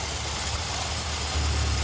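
A 1978 Honda CB750K motorcycle engine ticks over at idle just above 1,000 rpm after a carburetor rebuild, a smooth, even low rumble close by with no voices.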